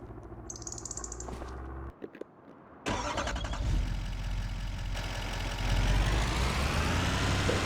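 A truck engine runs at an abandoned property during cleanup, with a few clunks and a brief pause before it settles into a loud, steady rumble close by, a bird briefly audible early on.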